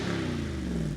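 A deep Jeep Wrangler Rubicon 392 V8 engine rumble holds steady for about a second, loud and close, with a throaty low drone and slight pitch drift like a revving V8 exhaust.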